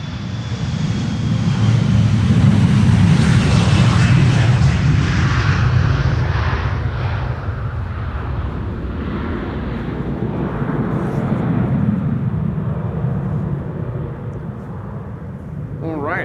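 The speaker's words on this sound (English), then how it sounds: "KLM flight 1955 to Athens, up next, 737-800" A KLM Boeing 737-800 departs a windy Polderbaan runway at Schiphol, its loud jet roar swelling early and then fading away, with low buffeting rumble and a voice talking over it.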